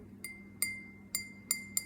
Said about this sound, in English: 49 cents each, iridescent glass bells.